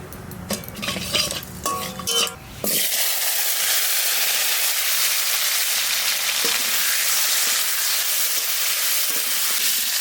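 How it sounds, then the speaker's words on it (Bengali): Chunks of taro hit hot oil in a wok among clattering utensils and stirring, then a loud, steady sizzle of frying fills the rest of the time, close and continuous. "এই কষু এবার রান্না করবো, কড়াইতে দিয়ে দেবো।"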